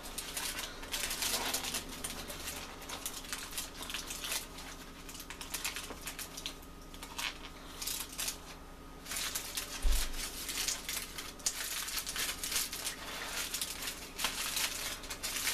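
Aluminium foil packet being folded and scrunched up by hand for the grill, a continuous crinkly crackling close by with soft rustles and taps throughout, no talking.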